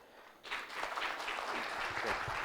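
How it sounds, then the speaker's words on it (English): An audience at a power-sector summit session breaks into applause after a short lull, a steady wash of clapping that swells and holds for a couple of seconds. "Little applause"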